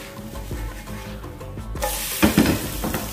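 A finger millet and drumstick-leaf adai is flipped on a hot pan; a low tonal hum gives way to a sudden burst of sizzling with a couple of clattering scrapes, close and fairly loud.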